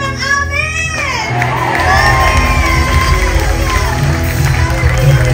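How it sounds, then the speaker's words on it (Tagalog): Church congregation shouting and whooping together in a loud burst of raised voices that carries on as a sustained crowd roar through a full hall. "sumigaw ng amin!"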